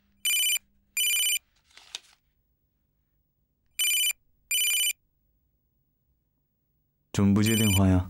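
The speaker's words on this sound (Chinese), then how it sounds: "怎么不接电话呀？" A telephone rings in short electronic double bursts, two pairs separated by a pause, close and clear in a quiet room, with a brief rustle between and a voice speaking at the end.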